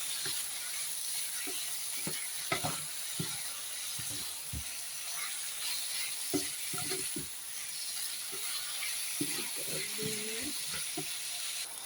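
Salt seasoning sizzles in a frying pan during preparation of rica-rica, with a steady hiss under irregular scraping and stirring knocks, close and moderately loud, no talking.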